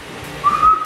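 A person whistles a single sustained, fairly loud note that rises partway in and holds steady, outdoors with no talk over it.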